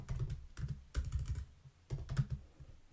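Typing on a computer keyboard while entering SwiftUI code in Xcode: clusters of quick close key clicks in irregular bursts with short pauses, no voices.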